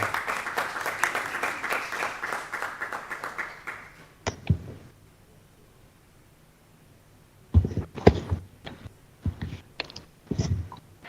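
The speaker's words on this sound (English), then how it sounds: "A round of applause for Ms. Safia, please." A small crowd claps steadily for a few seconds before the applause fades out, followed after a quiet gap by a handful of scattered claps and knocks.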